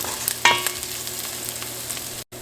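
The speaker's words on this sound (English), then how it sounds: "So just fry this until onion get caramelized, or 3 to 4 minutes." Onions frying over medium-low heat for a Himalayan-style dal and potato dish, giving a steady soft sizzle with a few clinks of a utensil stirring them early on, close and without speech.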